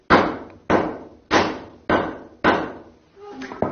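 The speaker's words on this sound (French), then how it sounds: "Et c'est avec ce vieux marteau-là que l'on va l'affiner." An old hammer striking a metal rod drawn from an ingot, refining it for traditional Miao jewelry: five sharp, evenly spaced metallic blows ringing close and loud, followed by softer clinking.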